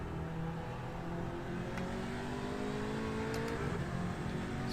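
An Audi RS3 race car in the iRacing sim at Laguna Seca, its engine droning and climbing in pitch through a steady run, with faint shifts and no talk.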